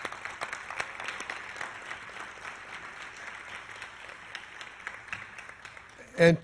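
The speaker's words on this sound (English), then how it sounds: "help me applaud his efforts" Applause at a men's volleyball press conference: a room full of people clapping steadily for several seconds at moderate level, with a louder thump or handling noise at the very end.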